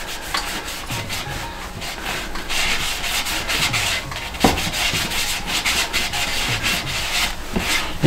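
Close, rhythmic rubbing and scrubbing strokes as a mold-preventing leather product is worked into the mold-stained leather insole of a Red Wing Oxford 9894 boot, with no talking.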